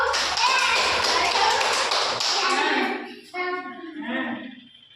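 Children in a group activity clapping their hands together, a rapid run of close claps and taps for a couple of seconds, then scattered children's voices and fainter claps.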